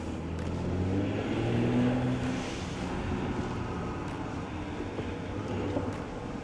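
Porsche Cayenne E-Hybrid Coupe drives with a steady low engine drone and road rumble throughout, a slight swell near the start, heard from inside or close by with no talk over it.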